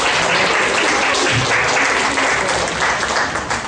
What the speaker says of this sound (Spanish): Un aplauso a su compañero y su esfuerzo.